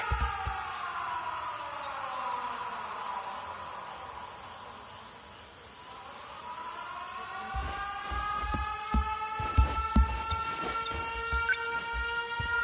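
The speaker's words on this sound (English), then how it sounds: "Air raid alarms have been sounded." A wailing air raid siren in the video game 13 Sentinels: Aegis Rim rises and falls in long sweeping tones, dipping low midway before climbing again, with scattered clicks and thumps toward the end.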